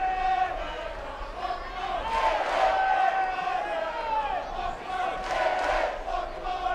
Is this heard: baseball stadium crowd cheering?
yes